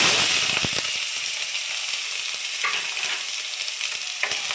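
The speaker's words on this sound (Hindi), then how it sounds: "पियाज टे भाजी दबा।" Onions fry and crackle in a pan for Odia baigana bharta, a dense close sizzle broken by a few sharp pops and stirring scrapes.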